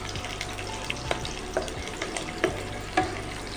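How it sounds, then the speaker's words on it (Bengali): Onion frying over low-to-medium heat on a gas or induction flame, a steady sizzle broken by a regular series of scraping stirs in the pan, close and fairly loud. "পেঁয়াজটা আমার ভাজা হয়ে গেছে"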